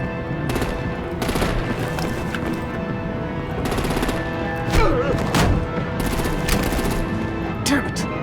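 Gunfire rattles through a scene in the video game Batman: The Enemy Within, with loud, dense bursts of shots and thuds over a continuous action-scene soundtrack, and short bits of voice mixed in.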